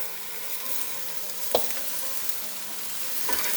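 Carrots frying in a pot for Kabuli palau, a bright continuous sizzle with a sharp spoon knock and light stirring scrapes partway through, close and no voices.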